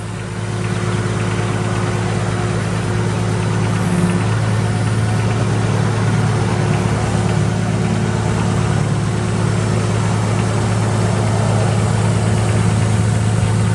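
A 2006 CAT DP40KL1 9,000 lb pneumatic-tire forklift runs its engine at a steady, loud mid-low drone while the mast is raised, a constant hum with no talk.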